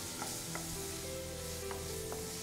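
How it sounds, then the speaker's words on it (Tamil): Grated bottle gourd sautéing in ghee, a soft continuous sizzle with a few light stirring clicks, close but fairly quiet, no talk. "இந்த சுரக்காயை நல்லா நெய்யிலே நம்ம வந்து நல்லா வதக்கிக்கணும்"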